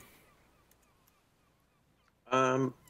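Seagull squawking: one loud, harsh, honking call near the end after a long stretch of quiet background.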